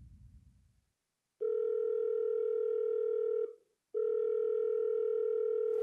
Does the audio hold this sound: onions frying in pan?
no